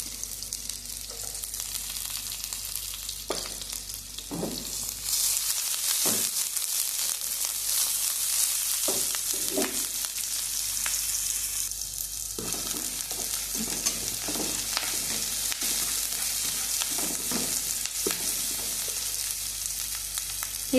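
Onions and green chillies sauté in a pan for egg bhurji, giving a steady bright sizzle throughout with repeated scraping stir strokes of a spatula against the pan. No voices.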